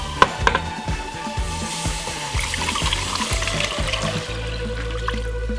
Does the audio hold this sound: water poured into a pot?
yes